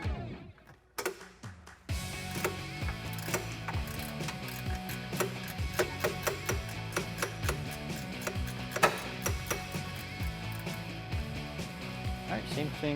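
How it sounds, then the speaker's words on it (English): Rapid ratcheting clicks in repeated bursts as a 15mm ratcheting wrench loosens sway bar bolts on a 2011-2020 Dodge Challenger R/T, close and crisp with some talk in the background. "I'm gonna use a 15mm ratcheting wrench to get these off"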